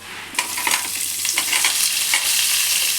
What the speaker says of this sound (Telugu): ముందుగా మెంతులు తర్వాత ధనియాలు జీలకర్ర ఇవి కొంచెం ఫ్రై అవుతుంటే